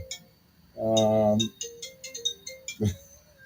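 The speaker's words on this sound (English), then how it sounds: "it's like we got a phone call" An incoming-call phone ringtone gives one short, clear melodic burst during a live radio-style talk, followed by a voice speaking.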